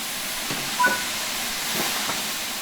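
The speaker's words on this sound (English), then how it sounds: "you'll want to open the cylinder cocks or remove any water" Steady steam hiss from a Train Sim World 6 steam locomotive with its cylinder cocks opened, a broad continuous rush at moderate level with a brief louder puff near the start, no talk.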